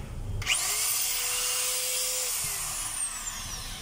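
A repaired DeWalt D25032 rotary hammer drill with a replaced brass holder, its motor whining up sharply to speed, holding a steady high pitch, then winding down toward the end, close and fairly loud.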